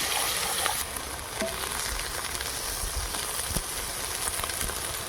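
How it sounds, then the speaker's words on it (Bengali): Eggplant fries in hot oil in a home Bengali kitchen, giving a steady, dense sizzle and crackle that stays close and fairly loud throughout, with no talk. "এবার বেগুনটা আগে ভেজে নেব।"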